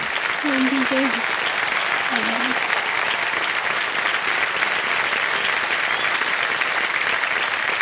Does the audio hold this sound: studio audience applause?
yes